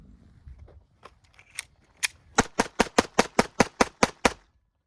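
A Glock 44 pistol fires rapid rounds during a 1,000-round torture test: a few light clicks, then about ten sharp, loud shots in an even, quick rhythm, each cracking clearly with nothing else over them.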